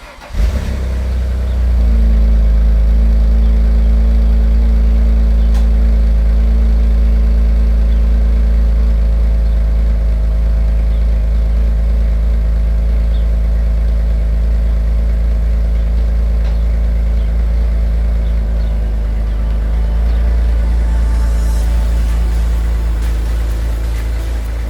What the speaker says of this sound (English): enjoy listening to this amazing Italian V6 sing